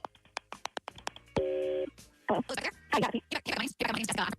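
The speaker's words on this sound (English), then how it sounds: "We're making the phone call right now." A telephone call is placed on a radio show: a quick series of dial tones and short beeps, then a sustained tone, followed by broken bursts of connecting sounds and brief voices.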